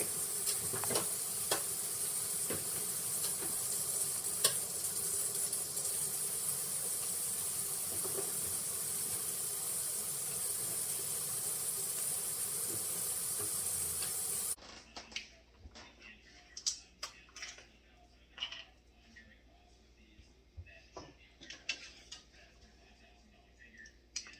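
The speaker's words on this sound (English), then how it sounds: "I will turn on the fire of the gas stove. I'll sit the pan on that and then let it dry." Gas stove burner lit under a pan left to dry, producing a steady hiss of flame for most of the span, then giving way to quieter ticks and faint kitchen sounds.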